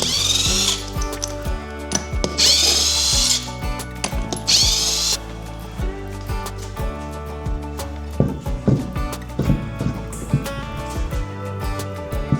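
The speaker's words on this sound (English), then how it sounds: "then we can run them off with the rattle gun" A pneumatic rattle gun buzzes loudly in repeated bursts as it spins nuts off a Unimog truck, with metallic clanks and ratcheting between runs and no talking.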